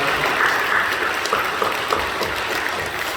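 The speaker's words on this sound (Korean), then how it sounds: "우리 박수로 사랑하고 격려해 주시고" A church congregation claps steadily and continuously during a Sunday service, a dense even patter of many hands filling the whole stretch without a break.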